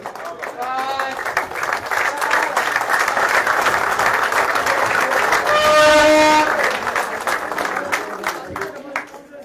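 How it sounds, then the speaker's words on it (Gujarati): Audience applause at a cricket tournament final, sustained clapping from a crowd swelling to a peak midway, with a faint whistle-like tone and background chatter running throughout. "તો આપણે જોરદાર તાળીઓથી એમનું અભિવાદન કરીશું."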